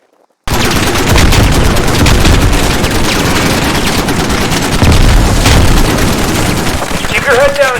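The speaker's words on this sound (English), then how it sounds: "You will be stressed, and this is a live fire exercise." Loud, nonstop gunfire and explosions from a live-fire exercise in the Squad tutorial, with rapid machine-gun bursts and heavy booms that begin abruptly and continue, plus voices shouting over the battle near the end.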